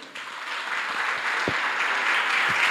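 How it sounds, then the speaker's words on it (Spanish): An audience welcomes a priest at an evening Bible conference with applause, a steady wash of clapping that starts abruptly and swells slightly louder, with a few low thumps in the room. "Le recibimos con un fuerte aplauso."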